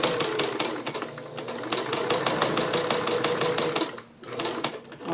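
A sewing machine stitching a 1/4 inch quilt seam, a fast even mechanical chatter running steadily, pausing briefly near the end before starting again, close and loud.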